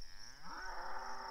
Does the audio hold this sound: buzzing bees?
no